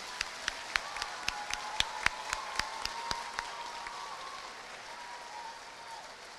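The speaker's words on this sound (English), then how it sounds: "How about a big round of applause for Mr. Thornton?" Audience applause at an elementary school awards ceremony, with sharp individual claps standing out early over a steady wash of clapping that gradually thins and fades toward the end.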